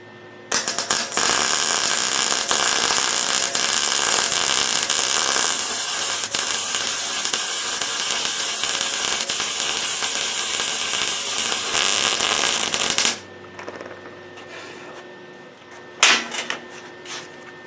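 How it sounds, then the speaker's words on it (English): Two pieces of an all-aluminum radiator panel are welded together, a loud continuous crackling hiss that holds steady for about twelve seconds and then cuts off, followed by quieter shop noise and a brief burst near the end. "I'm going to weld these two pieces together"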